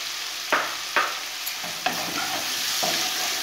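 Boiled potatoes hitting hot oil in a pan while cooking a prawn and cabbage ghonto, a sharp sizzle with a few distinct clattering strokes over steady frying hiss, close and without talk.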